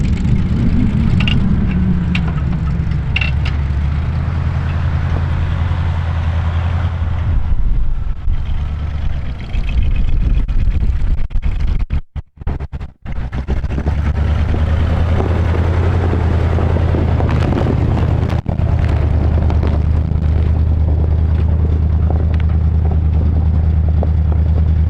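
An old GMC truck, revived after sitting for 30 years, driving in four-wheel drive on snow, with a loud steady engine drone and low rumble from inside the cab that briefly cuts out, then resumes.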